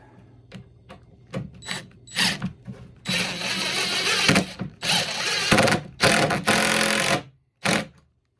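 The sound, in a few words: driving a 3-inch decking screw into a wooden hive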